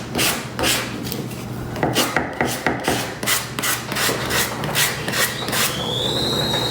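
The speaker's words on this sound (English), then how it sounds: "I am going to take my sanding block, as you've all seen, and just get the extra edges off of this" Steady back-and-forth strokes of a sanding block along wood edges of a shutter sign, close and evenly paced, a dry scratchy rasp repeating without speech.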